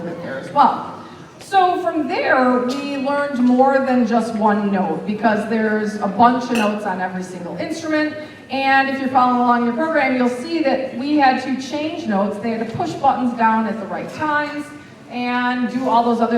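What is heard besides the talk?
No everyday noise stands out behind the speech.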